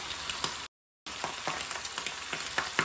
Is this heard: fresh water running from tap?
no